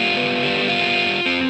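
Electric guitar played through a Marshall amp with distortion and phaser, a thick sustained chord ringing steadily for the whole stretch with a fresh attack near the end, no voices.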